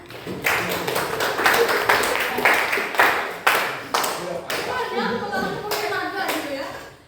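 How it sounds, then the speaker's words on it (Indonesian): Classroom of students clapping hands together during a positive-culture lesson, a loud, dense burst of many hands that swells and pulses in waves over several seconds, with children's voices mixed in. "Oke, tepuk tangan semuanya."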